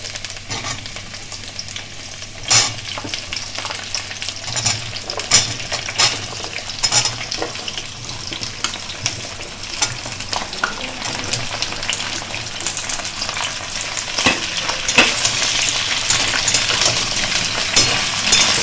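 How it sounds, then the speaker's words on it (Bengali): Vegetables sizzle and crackle in a hot pan, with clinks of a spoon stirring, the frying growing louder toward the end. "একটু ভাজা ভাজা করে নেব"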